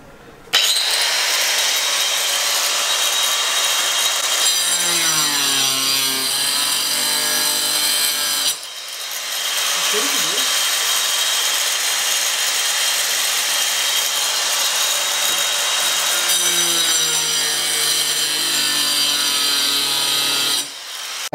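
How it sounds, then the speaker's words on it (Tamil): A plastic Sintex water tank being cut with a power tool, a loud continuous rasping, sawing noise with the blade pitch shifting as it bites, briefly pausing twice, no voices. "ஆக்சுவலாக இது நாங்கள் வந்து கட் பண்ணவே ஆரம்பிச்சிட்டோம்."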